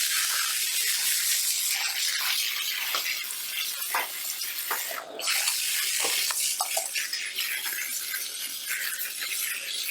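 Running water from a tap splashes steadily over hair at a salon basin during a razor haircut, a continuous close hiss with small irregular spatters and no talking.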